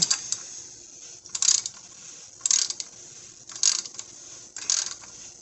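A ratchet tightening the oil filter housing bolts on a 2015 Chrysler Town & Country, four short bursts of rapid clicking about a second apart, close and crisp over a quiet background.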